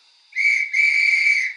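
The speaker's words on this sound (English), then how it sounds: "guard's whistle" A guard's whistle sound effect from a Bachmann GCR 11F model locomotive gives one shrill, steady blast lasting over a second, with a brief break near its start, loud and clean against silence.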